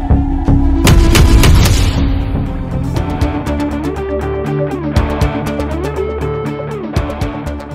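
Police open fire on student protesters in a Bangla village drama, loud booming shots and bangs layered over a dense musical score, strongest in the first two seconds, then scattered sharp reports through the rest.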